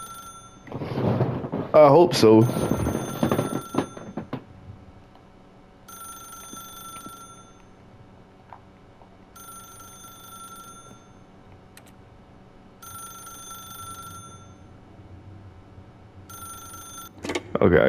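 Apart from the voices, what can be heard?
telephone ringing, from the video game The Stanley Parable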